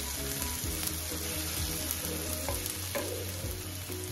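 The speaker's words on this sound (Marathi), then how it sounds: "टोमॅटो पण छान परतले गेले आहे।" Chopped tomatoes sauté in hot tempering oil in a pan, giving a steady close sizzle with soft stirring scrapes and a faint tonal hum underneath, no one talking.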